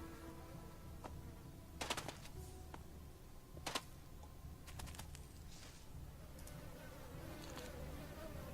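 Steady insect-like buzzing from bees around a beehive in the video game Elex fills the whole stretch at a constant level, with a few brief sharp clicks breaking through.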